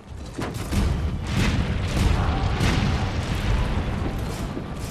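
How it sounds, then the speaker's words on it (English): In Monster Hunter World, cannon fire booms during the Arch Tempered Kulve Taroth fight, a dense, loud rumble of blasts and impacts continuing for several seconds without talk. "you're gonna get a ton of damage with that cannon"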